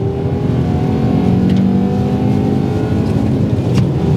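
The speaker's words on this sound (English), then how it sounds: "it has that classic 5-cylinder noise" VW Bora with a 2.3-litre VR5 five-cylinder engine revving, a loud, close, continuous warbling engine note with steady harmonic hum, heard from the car with no talking.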